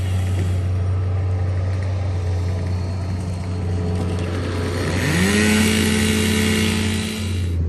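Skid steer loader clearing storm debris after Kentucky storms, with a steady low engine drone that rises into a louder revving whine partway through, heard close and continuous.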